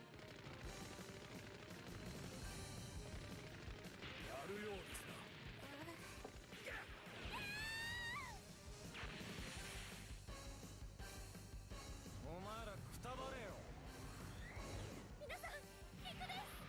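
A warship's main cannon fires in the SD Gundam G Generation Crossrays video game. Loud, dense game audio carries heavy booms, crashes and swooping laser-like sweeps over a background music bed, running continuously throughout.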